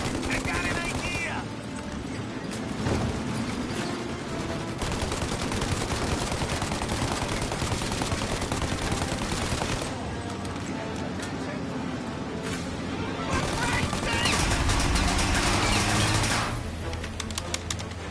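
Gunfire in the Mafia video game: sustained bursts of rapid shots, loud and close, running almost continuously with brief lulls, under voices calling out.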